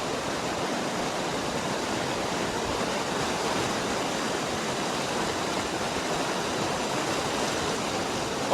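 Icy-cold water rushes steadily through Oshu Forest near Kalam, a loud, continuous broadband roar like a stream or small falls, heard alone without voices.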